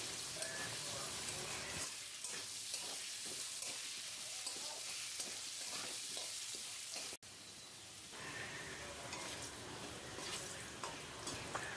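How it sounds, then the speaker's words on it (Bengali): Potatoes fry in hot oil with salt and turmeric, giving a steady loud sizzle with occasional stirring scrapes throughout, and no talk. "আলুটা নুন আর হলুদ দিয়ে খুব সুন্দর করে লাল লাল করে ভেজে"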